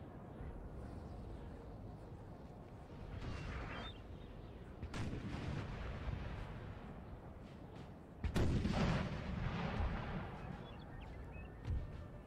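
Artillery fire in the Napoleon: Total War video game with a Napoleonic mod, several booming cannon shots and rumbling battle noise, one sharp report standing out near the end, fairly faint overall.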